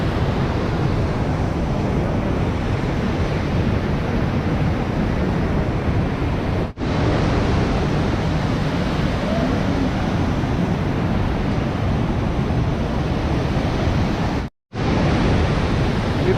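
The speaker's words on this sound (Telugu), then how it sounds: "ఇంత స్పీడ్గా ఫ్లో వచ్చినాయి అయితే వాటర్ అయితే ఫుల్ స్పీడ్ వస్తున్నాయి వాటర్." Fast-flowing river water rushes under a bridge on the Sonprayag to Kedarnath route, a steady, loud, close roar that fills the clip, broken by two brief dropouts.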